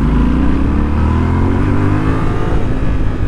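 A Yamaha Ténéré 700 World Raid motorcycle pulls hard in second gear, its exhaust a loud, close, continuous roar with rising engine tones and no voices.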